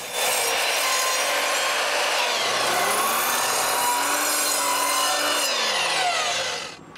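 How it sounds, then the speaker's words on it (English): A saw cuts steadily through wooden planks in rapid back-and-forth strokes, loud and close, continuing almost without pause until it stops near the end. "I begin by cutting all the planks to the right length."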